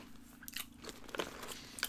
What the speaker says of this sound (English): Now that I've like finished chewing and swallowed